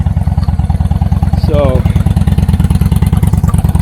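A motorcycle engine, just repaired with a new main fuse, idles close by with a steady, loud, lumpy throb, and a brief voice cuts in partway through.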